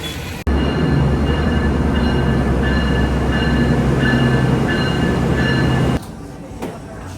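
A steady, loud rumble of a moving New York City train fills the space, with a constant roar and faint rattling, then drops suddenly quieter near the end.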